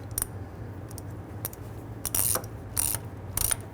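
A socket wrench ratchets in short bursts while tightening a starter nut on a 2007-2014 Cadillac Escalade 6.2L V8. Several quick clicking pawl runs come close up over a low hum, with pauses between strokes.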